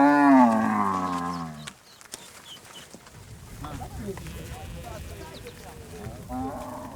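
A cow from a herd in Niger lets out one long, low moo up close, then the call stops and gives way to shuffling outdoor noise, with another faint lowing rising near the end.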